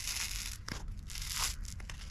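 Adhesive-backed insulation being peeled from its backing and pressed onto a wall, heard as close crinkling, tearing and rustling with a few brief louder rips.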